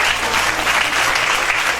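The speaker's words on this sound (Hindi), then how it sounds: "जोरदार ताली यीशु के लिए बजाइए।" Loud, dense applause from a church congregation at a Thursday healing and deliverance meeting, steady sustained clapping from many hands filling the hall.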